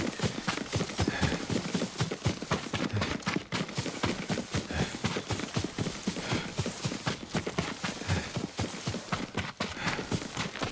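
Horse hooves clip-clop steadily and close in the video game Ghost of Tsushima, a brisk rhythmic trot of dense repeated strikes throughout with no talking.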